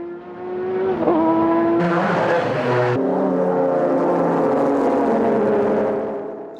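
A Castrol Supra race car at a 1997 JGTC circuit race spins out: a loud engine note and sustained tire squeal rise together, then the engine pitch shifts sharply, with a commentator's voice partly over it.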